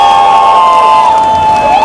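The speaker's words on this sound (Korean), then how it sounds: "다시 한번 우리 경대수 후보님께 뜨거운 박수를 부탁을 드리겠습니다" A loud crowd at an outdoor election campaign rally in the Jincheon-Eumseong innovation city cheers and claps for a candidate, a dense continuous roar with a steady tone running through it, close and full.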